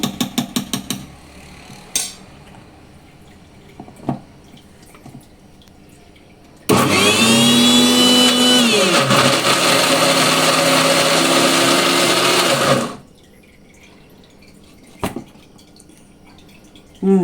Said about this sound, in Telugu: మళ్ళీ ఒకసారి మనము మిక్సీ వేసుకుందాము.